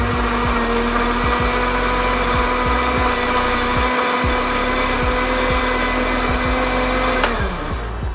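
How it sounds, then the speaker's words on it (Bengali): An electric blender whirs loudly and steadily as it blends milk for lassi, a close, constant motor drone with a faint pulsing beat that winds down near the end. "এখন আমি এটাকে একবারেই ব্লেন্ড করে নিচ্ছি"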